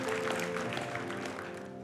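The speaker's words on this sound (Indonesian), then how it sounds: "Berikan tepuk tangan buat Tuhan kita." A church congregation applauds during a worship service, steady clapping running throughout over sustained tonal music.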